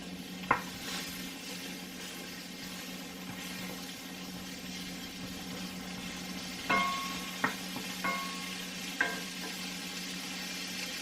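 Onions frying in oil in a cast iron pan, a steady sizzle broken by several sharp scrapes and clinks of a utensil stirring against the pan.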